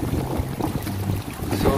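Steady roaring wind buffets the microphone over the low rumble of a boat on the water, continuous and loud throughout.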